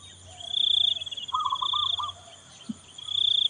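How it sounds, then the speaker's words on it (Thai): Crickets chirp in high, pulsing trills that rise and fade, with a short birdlike warble in the middle against a quiet outdoor background. "จิ้งหรีด"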